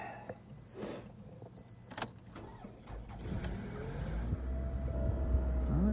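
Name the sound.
old car engine cranking and starting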